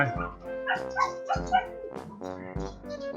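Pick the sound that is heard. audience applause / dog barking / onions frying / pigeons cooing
dog barking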